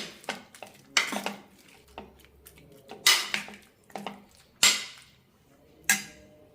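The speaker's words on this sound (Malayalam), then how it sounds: "കഷ്ണങ്ങൾ നന്നായി വെന്തിട്ടുണ്ട് ചെറുതായി ഒന്ന് മാഷ് ചെയ്ത് കൊടുക്കാം" Cooked tapioca pieces are mashed in a pan for a tapioca masala: a metal utensil knocks and scrapes against the pan in sharp, irregular clanks, about half a dozen louder strikes among softer taps, close and without talk.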